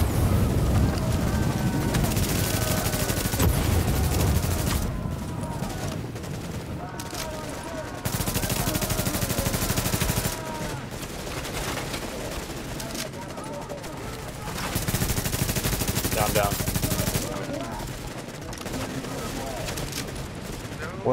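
Sustained gunfire in the online shooter video game Tom Clancy's The Division, dense rattling bursts and single shots running through the whole stretch, loud and close, with players talking over it.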